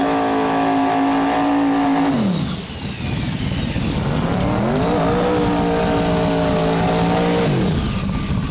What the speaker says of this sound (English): driving Dirty Money, the 93 Chevy Camaro